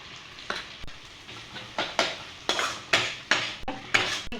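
Spice masala frying in oil in a pan, with a utensil scraping and clattering against the pan in a steady series of sharp strokes about every half second over a soft sizzle.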